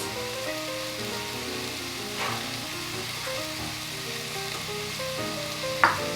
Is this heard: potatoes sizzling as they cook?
yes